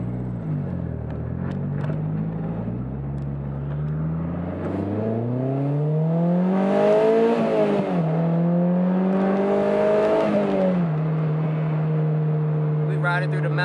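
A car engine climbs and drops through gears while driving fast on a mountain road, the revving tone rising, holding and falling again over steady road noise, loud and close throughout.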